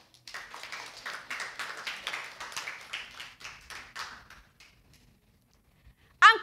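Congregation at a Filipino church service clapping together in steady, fairly loud bursts for several seconds, then fading out, with a brief sharp sound at the very end.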